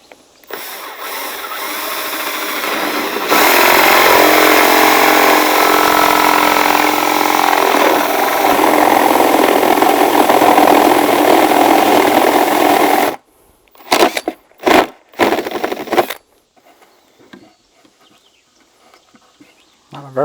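Power drill boring a 1.5 inch hole with a brand-new, very sharp bit into wood for a bluebird house: a loud, steady whine for about ten seconds, then short bursts and pauses as the drilling stops.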